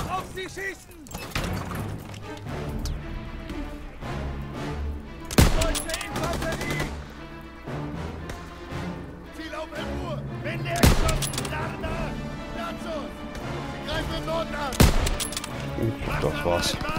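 Battle gunfire in Call of Duty WW2 at Hill 493: sustained machine-gun and rifle fire crackles throughout, with several loud, sharp single shots standing out and someone talking over the combat.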